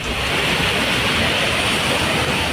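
Kempty Falls in Mussoorie, swollen into a flood torrent after torrential rain, pours down the hillside in a loud, continuous rushing roar that fills the scene with no break.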